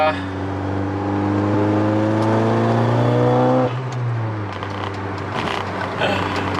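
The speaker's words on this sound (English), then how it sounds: "Engine runs so much better now." A 450 bhp Audi S1 engine revs up loud and near, pitch climbing steadily for several seconds, then the revs drop off and it settles into a rougher rumble.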